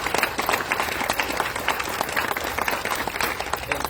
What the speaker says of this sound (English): let's give Ted and Pat a round of applause